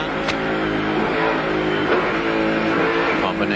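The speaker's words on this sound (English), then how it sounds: "you hear him hitting the gas pedal, using that 6-speed gearbox, coaxing it around, giving it a bit." Ford V8 Supercar from the 1995 Bathurst race, engine revving and pulling through its six-speed gearbox, a steady loud drone with a commentator talking over it.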